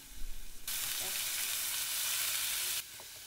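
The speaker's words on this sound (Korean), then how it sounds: "지금 코스트코 돼지 다짐육으로 두부를 볶는 중이랍니다" Ground Costco pork stir-fried with tofu in a home kitchen pan, a bright steady sizzle that cuts in sharply, holds loud and even for about two seconds, then stops abruptly.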